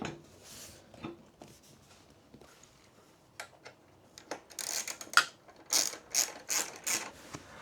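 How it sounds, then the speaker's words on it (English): A torque wrench ratchets as bolts on a Honda Monkey 125 rear rack are tightened, giving sparse clicks at first and then quick bursts of close, crisp mechanical clicking, with no talk. "we get the torque wrench out and torque everything up fully"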